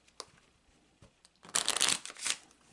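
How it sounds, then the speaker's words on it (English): A deck of Kipper cards is riffled in a short, crisp burst after a couple of light taps, close up and alone. "So I'm shuffling that into the cards."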